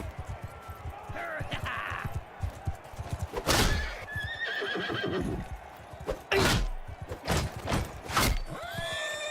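A horse in the video game Mount & Blade II: Bannerlord whinnies loudly several times while hooves clip-clop, amid busy in-game battle noise and a voice in the background.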